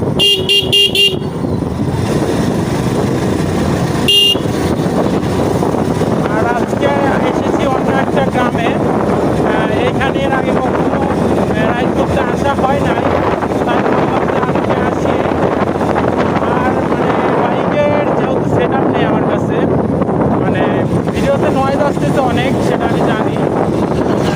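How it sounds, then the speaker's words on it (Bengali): Heavy wind buffeting a microphone on a moving motorbike, a constant loud roar mixed with engine drone and passing traffic for the whole stretch. "দিয়ে যখন যাওয়া হয় প্রচণ্ড বাতাস লাগে"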